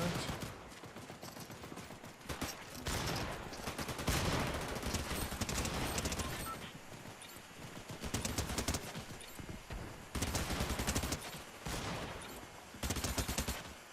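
Automatic weapon fire in Fortnite Zero Builds ranked play, long rapid bursts of loud shots rolling almost continuously with brief pauses between volleys.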